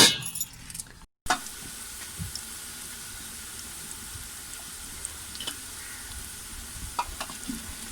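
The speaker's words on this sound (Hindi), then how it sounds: "देखिए प्याज हमारा ब्राउन हो रहा" Sliced onions fry and brown in oil in a pot for yakhni pulao. A steady, close sizzle runs throughout, broken by a few scraping stirs and clinks, with a brief pause near the start.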